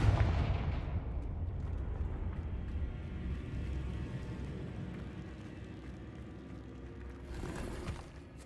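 Confringo fire spell blasts in the Hogwarts Legacy video game, a loud booming explosion that fades into a sustained rumbling roar over several seconds, with no speech.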